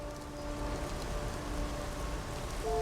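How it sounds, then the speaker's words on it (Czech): Steady rain falling outside a balcony in the video game Memento Mori 2, a continuous even hiss of downpour with a low ambient hum and faint tonal drones running through it. "No, prší, je pěkně hnusně."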